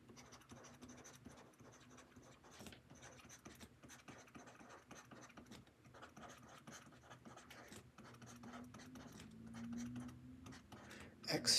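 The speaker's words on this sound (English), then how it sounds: "let's just write this down" Marker or chalk scratching and tapping on a board during a linear algebra lesson, a continuous stream of short, close strokes with faint room hum beneath and a louder knock at the end.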